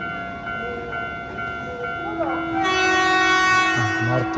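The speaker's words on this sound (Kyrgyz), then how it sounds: "Мына келип кетти. Менин поездым кетти." A train passes close by, its rumble building as a loud horn blast sounds midway and holds on; a voice speaks briefly over the passing wagons.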